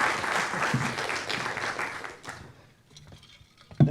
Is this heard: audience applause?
yes